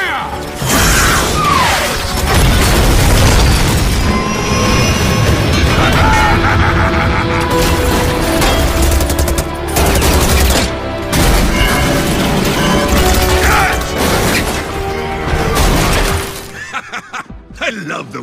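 An Overwatch animated battle erupts with loud, continuous rocket fire, booming explosions and shattering crashes, dense and close, with shouting voices mixed in before it cuts off abruptly near the end.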